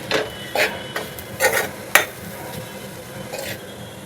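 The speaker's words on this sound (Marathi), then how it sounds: "आणि मिक्स करून घेऊया आपली तयार झाली मेथीची भाजी" A finished fenugreek leaf (methi) curry is stirred and mixed in a pan, with a string of close scraping and clinking strokes from the spoon against the metal over a soft sizzle.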